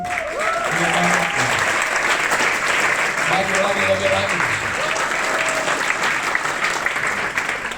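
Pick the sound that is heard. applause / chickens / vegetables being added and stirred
applause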